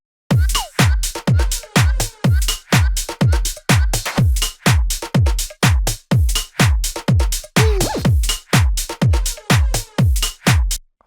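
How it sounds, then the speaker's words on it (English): Punchy electronic drums loop in a steady, fast rhythm, deep kicks and crisp hits layered together, loud and tightly repeating throughout. "Together, all the drums sound like this."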